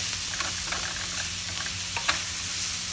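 Spaghetti sauce ingredients stir-fried in a pan, a steady close sizzle with light scraping and clicking as everything is kept moving around.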